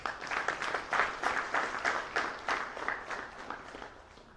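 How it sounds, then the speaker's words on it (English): A modest round of applause at a sport summit, fairly faint and thin, with a few audible separate claps pulsing in a loose rhythm as it fades. "So if we could just give all of them also a round of applause."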